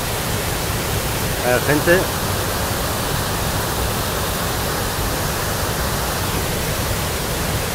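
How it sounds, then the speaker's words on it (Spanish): A steady, close roar from one of the waterfalls on a walking route fills the whole stretch, with a brief spoken remark over it. "Estamos aquí haciendo la ruta de las cascadas, y esta es una de ellas."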